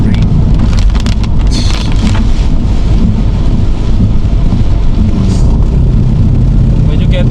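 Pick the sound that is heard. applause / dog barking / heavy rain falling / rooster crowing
heavy rain falling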